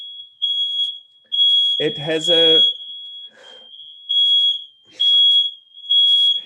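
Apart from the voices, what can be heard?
alarm going off in the room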